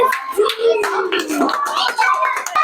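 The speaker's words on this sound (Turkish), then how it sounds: "Asya Ömür geliyor alkışlarla" Scattered hand clapping at a children's course welcomes a child guest, sharp uneven claps mixed with nearby talking and children's voices throughout.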